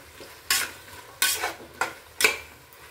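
Vegetables with mint and green chilli being stirred in a pan for vegetable biryani: three distinct scraping stir strokes, close and fairly loud, over a faint background sizzle, with no talking.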